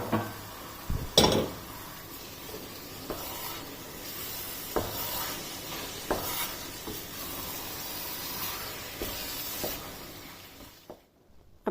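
Grated carrot halwa with homemade khoya being stirred and fried in ghee in a pan, with steady scraping spoon strokes over a soft sizzle, close up, ending in sudden quiet.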